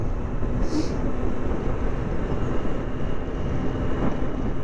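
A Yamaha FZ6 Fazer motorcycle on a daily commute ride produces a loud, steady roar of engine drone mixed with rushing wind, with no voice.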